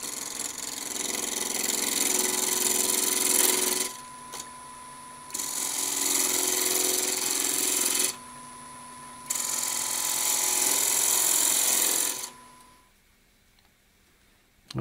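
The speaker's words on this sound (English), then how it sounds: "we're going to turn this round, and then we're going to round over the shoulder" A wood lathe spins a small spindle at about 1200 rpm, giving a steady motor whine with loud bursts of cutting noise that stop and start three times, then the machine winds down near the end.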